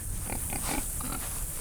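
Pigs grunting and oinking inside their farm shelter, several short, close grunts in an irregular string over steady background hiss, without talk.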